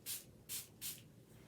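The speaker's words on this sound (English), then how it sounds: "spritz it real good" A spray bottle spritzes water onto a rubber stamp inked with green ink: three quick, close hissing sprays in an even rhythm, with no voices.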